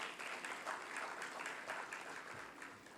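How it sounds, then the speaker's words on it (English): Conference audience giving warm applause to welcome a speaker onto the stage, steady dense clapping from a crowd heard alone, fairly distant and soft, tapering slightly at the end. "If we could all give a warm applause to welcome Dr. Chandani Wijebandara onto the stage."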